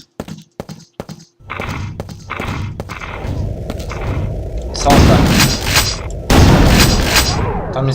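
Gunfire from the video game Quake 2 Evolved: scattered sharp shots early on, then two heavy, booming blasts close together near the end, loud and up front.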